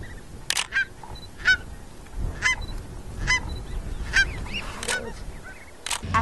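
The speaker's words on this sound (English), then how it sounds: "you can actually hear the little chicks kind of cheep cheep cheeping to each other" Goose chicks in a nest at Cambridge Bay: short, sharp cheeping calls repeated at irregular intervals, close and moderately loud over soft background noise.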